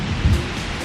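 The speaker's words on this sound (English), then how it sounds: "It started to rain." Steady rain comes down on a campground picnic area in the evening, a continuous soft hiss with low rumbling, close and even throughout.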